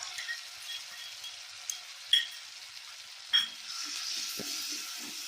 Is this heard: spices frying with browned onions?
yes